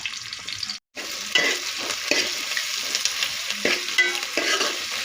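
Onions sizzle and crackle in a hot pan for a dried fish and eggplant curry, with occasional stirring scrapes; the hiss continues steadily after a brief silent gap near the start.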